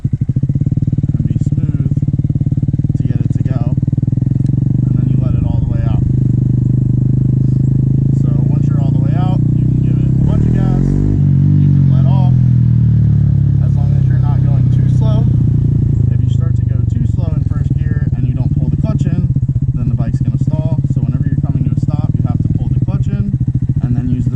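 A Honda Grom motorcycle engine runs loudly and continuously under throttle, with a rising rev in the middle as the clutch is let out, while a person talks over it throughout.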